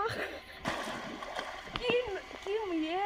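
Someone swimming at Hotel Sonar Bangla in Joypur Forest sends up bursts of nearby water splashes, mixed with chatter and a few high, wavering voices.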